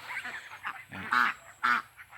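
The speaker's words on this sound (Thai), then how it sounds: "ก็เริ่มต้นที่ คอกเป็ด นะครับ" Ducks in a pen at a home garden farm, including some brown ducks, quacking in a few loud nasal bursts close by, with softer calls in between.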